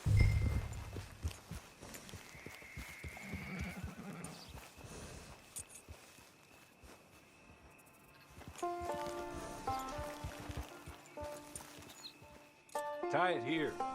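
Soft, irregular hoof clops of a horse walking in Red Dead Online, with occasional snorts and light music rising later.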